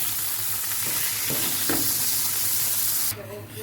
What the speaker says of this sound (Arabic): انا بسيحها